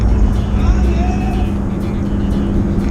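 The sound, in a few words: riding inside a truck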